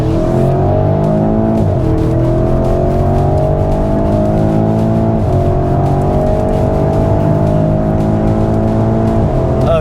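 A Porsche Cayenne runs at full throttle along the Sepang back straight. The loud engine note rises steadily, drops briefly at several upshifts and climbs again, constant and close with no talking.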